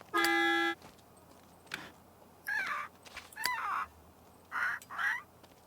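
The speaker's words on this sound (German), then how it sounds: "So, wir hupen da." A car horn honks in The Sims 3, one long steady blast at the start, then several shorter, wavering honks in pairs later, fairly near over a quiet background.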